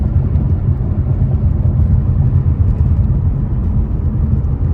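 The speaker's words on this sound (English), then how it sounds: "See if we can kick it down for you in the RPMs." Ford Mustang on an open road, heard from inside the cabin as it kicks down and accelerates, a loud, steady low rumble and whir of engine and road noise with no voices.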